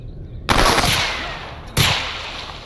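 Two loud gunshots in the Stalker Anomaly video game come about a second apart, each with a sharp attack and a trailing echo.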